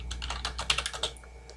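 Close keyboard typing as text is entered on a computer, a quick burst of distinct key clicks over a low steady hum, with no talking.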